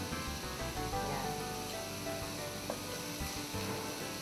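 Small onions sizzle steadily while sautéed in a little oil for a tofu and shrimp dish, a loud, continuous, close frying hiss with occasional faint pops.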